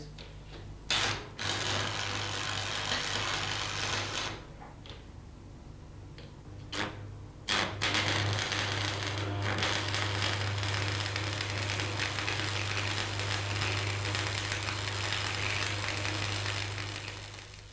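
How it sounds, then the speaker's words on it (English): Arc welding a bead on steel plate propped above a workbench: a steady, close crackling buzz runs almost the whole time, with a brief pause and a few sharp pops near the start. "weld it just like the bead on plate you started with"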